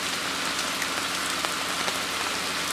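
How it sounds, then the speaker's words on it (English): Heavy rain pours down at a French carp-fishing lake, a dense, steady hiss of drops drumming on surfaces, close and continuous with no voices. "Just as about starting packing up, the heavens open."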